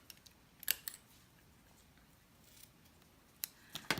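A few quick, crisp snips of scissors cutting ribbon, spaced apart with quiet pauses between them, close by with no talking.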